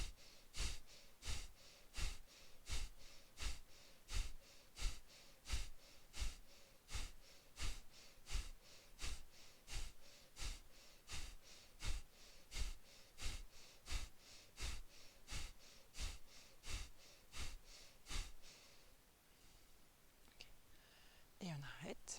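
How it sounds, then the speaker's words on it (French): Deep rhythmic breaths during a vinyasa yoga practice, about thirty forceful inhale-exhale cycles in steady quick succession, close and clear, then a quieter pause with faint movement at the end. "On inspire."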